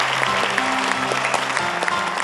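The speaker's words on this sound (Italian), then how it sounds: "ti va fatto un doppio applauso" Audience applause at a televised Italian singing show, a steady dense patter of clapping over a faint background musical tone, close and moderately loud throughout.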